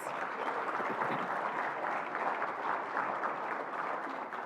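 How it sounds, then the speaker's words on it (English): Guests at the 2024 NC Community Colleges awards dinner give a round of applause, a dense, even roar of many hands that holds steady throughout and sounds somewhat distant and soft. "Give them another round of applause, please."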